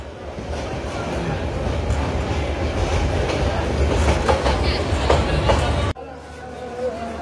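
Titas Commuter train rolls into Bhairab Bazar junction in Bangladesh, a loud steady rumble with clattering wheels heard from on board, continuous until an abrupt cut near the end.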